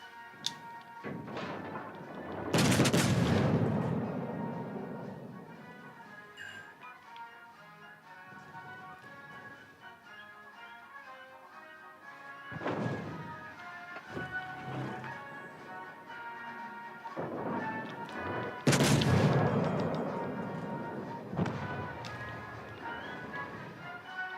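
Warship naval guns fire in the World of Warships: Legends game, giving three heavy booming salvos spaced several seconds apart over a faint, busy game background.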